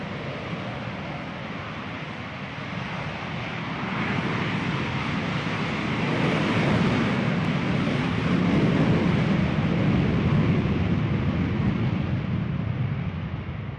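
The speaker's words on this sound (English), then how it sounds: "He's going to climb straight up and take that F-18 Super Hornet right over the top into what we call an Immelman." A Blue Angels F-18 Super Hornet jet climbing into an Immelmann over NAS Pensacola makes a loud, steady roar that swells and stays strong with no talk.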